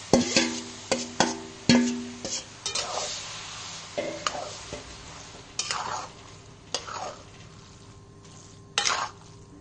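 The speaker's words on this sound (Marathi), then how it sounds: "हा पूर्ण साबुदाणा यात टाकून आपण त्याला वाफवून घेणार आहे" Sago pearls tipped into an oil-coated kadhai and stirred for fasting-style sago potato chakli: a run of sharp scraping and clattering strokes with soft sizzling between them, close and fairly quiet, with no talk.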